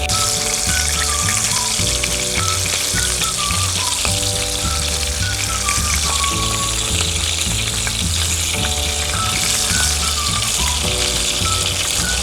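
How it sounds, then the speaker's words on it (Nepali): Quail meat fries in a pan with a steady, continuous sizzle, under loud background music that plays throughout. "यो फ्राई गर्दाखेरि चाहिँ तपाईहरुले हेर्दै उल्टाउँदै पल्टाउँदै फ्राई गर्नु"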